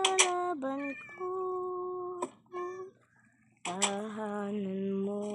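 Cats meow repeatedly at close range, several long, drawn-out and overlapping cries with a short pause in between.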